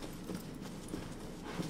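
Horse hooves clip-clopping in the Shadow of the Colossus video game, a steady run of soft, fairly faint hoof beats under game ambience.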